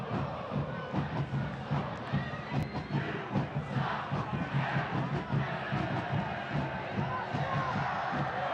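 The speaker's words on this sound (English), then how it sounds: "the crowd hype here at Keyworth. They have a lot to cheer about." A soccer stadium crowd at Keyworth cheering and chanting during a Detroit City FC match, a dense, loud roar with rhythmic shouts and drum-like pulses, sustained and broad with no clear single voice.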